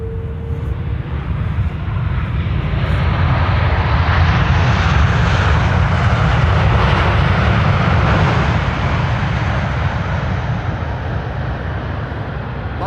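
Airplane landing at Amsterdam Schiphol Airport on a morning arrival, a loud, broad roar of jet engines that swells and sustains as the aircraft passes close by, with no talking.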